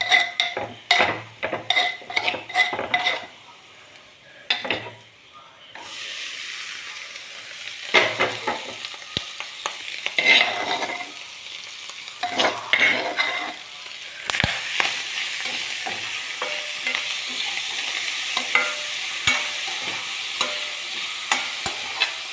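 Cooked clam meat is stir-fried in a pan for a country-style roast with pepper and turmeric. A spoon scrapes and stirs in bursts at first, then a steady sizzle continues close by with no talking.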